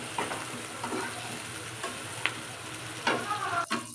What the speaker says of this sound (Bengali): এই যে পেঁয়াজ কাঁচামরিচ ভাজা ভাজা হয়ে গেছে, এখন আলাদা নিরামিষে দিয়ে দিই।